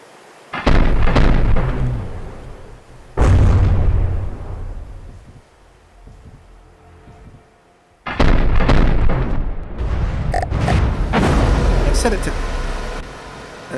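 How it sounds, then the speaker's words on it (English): Heavy cannon fire in the naval combat game From the Depths, armored warship under EMP attack: loud booming bursts at the start, again near three seconds, then a dense barrage of repeated blasts in the back half. "Cannon is amazingly still firing though."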